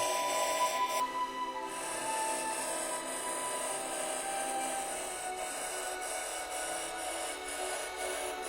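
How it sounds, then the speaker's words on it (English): Cut-off disc grinding two solid framing lines into bone for a Viking-era motif on a wootz crucible steel seax, a steady close high-pitched abrasive whine and rasp that holds evenly with no talk. "I use a cut-off disc to frame the design with 2 solid lines"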